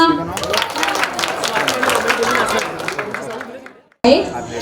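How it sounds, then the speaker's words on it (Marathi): Applause and cheering from a crowd at an engagement party and sangeet, with steady clapping and chatter mixed together, and a voice speaking over it before a brief cut near the end. "टाळ्या."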